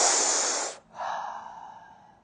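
A person draws one long, loud breath in through the mouth, airy and close, followed by a brief pause and a softer, fading second breath.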